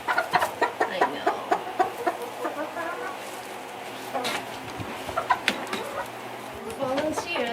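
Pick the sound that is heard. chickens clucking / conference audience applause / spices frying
chickens clucking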